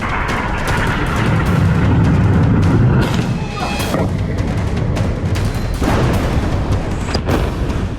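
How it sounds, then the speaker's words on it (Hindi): A loud, sustained rumbling roar with heavy low booms and crackling debris as an explosion brings down a concrete building in Beirut, continuous and close throughout. "धमाके के साथ ही कंक्रीट से बनी एक पूरी इमारत पूरी तरह से ध्वस्त"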